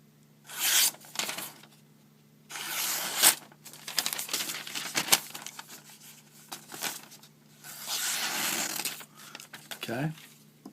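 Lionsteel SR-1A knife slicing through material with a freshly sharpened edge, giving several close, dry rasping and crinkling cutting strokes in separate bursts with short pauses between them.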